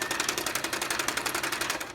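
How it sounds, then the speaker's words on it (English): A sewing machine stitching through paper with the presser foot raised runs in a fast, even clatter of needle strokes, close and steady throughout, with no one talking. "if you sew without putting your presser foot down,"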